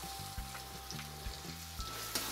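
Green chillies and fresh chickpeas roast in a pan for a Maharashtrian thecha, giving a quiet, steady sizzle broken by several scraping stirs in a loose rhythm.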